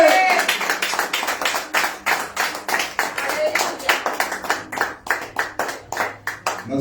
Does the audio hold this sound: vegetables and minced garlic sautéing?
no